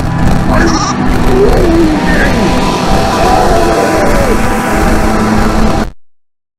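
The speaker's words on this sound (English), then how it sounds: "The goat was alive!" Goat bleating in a video game, several nasal bleats over a loud, dense game soundscape with a voice talking throughout, ending abruptly in silence.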